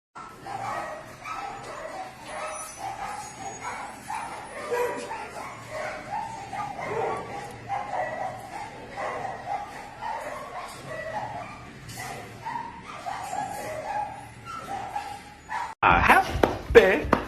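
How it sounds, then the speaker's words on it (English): A happy dog yips and whimpers excitedly in a string of short, close barks, with a person talking over it and a louder burst at the end. "Oh, the happy dog."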